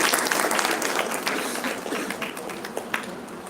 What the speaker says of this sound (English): with a huge round of applause, kindly welcome Carolina to the panel